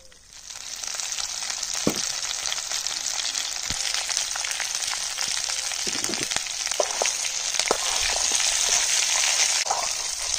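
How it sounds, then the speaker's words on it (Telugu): Ginger garlic paste sizzling and frying steadily in a hot pan for a chicken leg fry, a continuous close crackle with occasional stirring clicks throughout, no talking. "అల్లం వెల్లుల్లి పేస్ట్ వేసుకుంటున్నాం"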